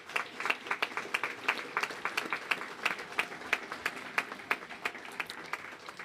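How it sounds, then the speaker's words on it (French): Applause from an audience at a commemoration of the 8 May 1945 victory, a steady patter of many hands clapping at moderate distance, sustained through the whole stretch with no one talking. "J'aimerais qu'on puisse les applaudir quelques instants."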